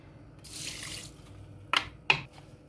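A short, soft rush of water pours into a pot of white rice, followed by two quiet clinks or taps; faint and brief, with no talking.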